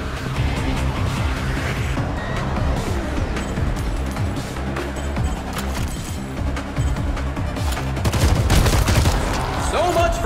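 Rapid gunfire crackles almost without pause in Showgunners, dense bursts layered over a driving music bed and clanking action effects, loud and close throughout.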